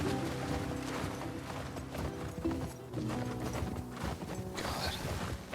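Rhythmic hoofbeats of a horse trotting in The Last of Us Part II clip-clop steadily alongside mechanical clicks and a soft musical bed.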